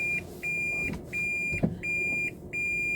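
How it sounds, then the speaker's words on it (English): Car's reverse-gear warning repeats a steady electronic beep, about five evenly spaced tones over three seconds, heard inside the cabin over a low engine idle with a soft thump in between. "It's the reverse gear beep."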